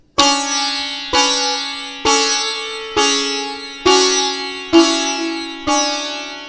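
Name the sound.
sitar stroke hitting sympathetic string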